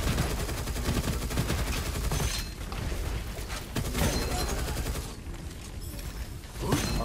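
A Gatling gun fires in long, dense bursts in the video game Gunfire Reborn, loud and continuous with brief dips between volleys, mechanical clatter throughout and no talking over it.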